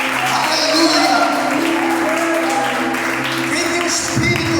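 A church congregation applauds during a celebration worship service, a steady dense wash of clapping with crowd noise and voices mixed in throughout.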